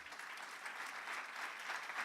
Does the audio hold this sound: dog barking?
no